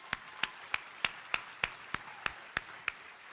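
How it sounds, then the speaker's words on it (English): Slow, evenly spaced single claps, about ten in a steady rhythm, quiet and close at a Democratic party event in Illinois honoring a party president, with no voices over them. "Give him a big round of applause"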